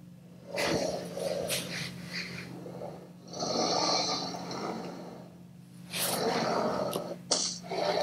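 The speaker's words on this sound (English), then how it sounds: "these guys have the T-Rex sound effect" T-Rex roar from the video game Jurassic World The Game: three deep, growling roar bursts with snorting, rumbling texture, each lasting a second or more, loud and alone with no talking.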